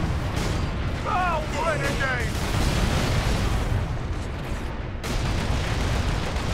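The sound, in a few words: grenade explosions in video game Warhammer 40K: Space Marine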